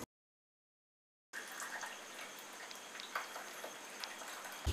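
Ginger cardamom tea is poured through a filter: after a moment of silence, a steady, close liquid trickle and splash runs on its own for several seconds.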